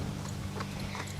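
Horses in the Star Stable online riding game being led toward an auction paddock, hooves clip-clopping in a steady walking rhythm over a low rumbling background, with no talk.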